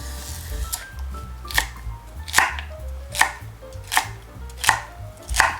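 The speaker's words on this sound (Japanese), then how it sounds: "セロリも1センチ角に切ります。" Knife chopping celery into 1 cm cubes on a cutting board for a spring minestrone, steady sharp thuds repeating about every 0.7 seconds, close and clear with no talk.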